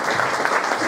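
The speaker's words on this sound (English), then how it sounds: "I think this marvellous lady deserves an enormous round of applause." At a motor racing media day, an audience gives a short, loud, dense burst of applause for a woman who painted a portrait, the clapping steady and unbroken for about a second.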